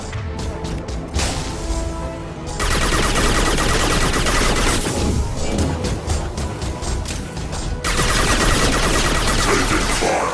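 Dense Mass Effect 2 combat gunfire, with sustained bursts of loud weapon shots and impacts crackling almost continuously, broken by a few short lulls.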